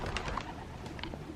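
Racing pigeons cooing around the loft, a few soft coos and chirps over steady background noise of flapping and rustling birds, moderately near.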